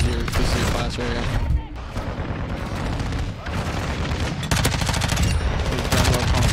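Rapid automatic gunfire from the Lachmann Sub (MP5) in Modern Warfare 2, long dense bursts broken by short pauses, loud and close amid game action, with someone talking over it.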